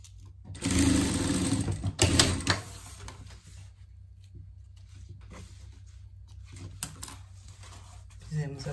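Domestic sewing machine hemming the sleeve of a pet raincoat, a close rapid stitching burst lasting a couple of seconds, then quieter handling and brief short runs, with a person speaking Portuguese at points.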